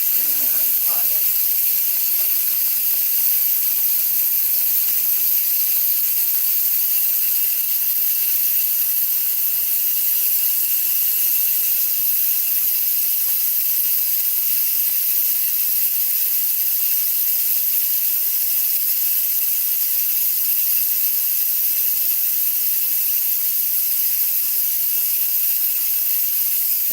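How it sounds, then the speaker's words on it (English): Steam vents with a loud, steady hiss from an electric pressure canner switched to exhaust after canning chicken, unbroken and close for the whole stretch with no other sound over it. "Now that's going to continue to let all that steam up out of there."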